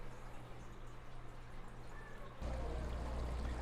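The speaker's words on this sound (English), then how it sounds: "Bubbling fountains as well." Steady, faint rush of bubbling fountain water at an outdoor seaside shopping village, with a continuous splash that grows slightly louder partway through.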